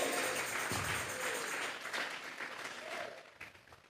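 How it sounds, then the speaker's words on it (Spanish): A church congregation applauds during a sermon, offering clapping to God, a soft, distant patter of many hands that gradually fades toward the end. "Vamos a regalarle ofrenda de palmas al Dios de la gloria"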